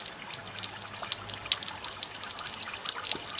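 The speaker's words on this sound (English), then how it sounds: "somebody just told me that this is a very cold shower" Water streams from a cold shower at a naturist club in London, a steady hissing spray with scattered spattering droplets, fairly close and constant without talk.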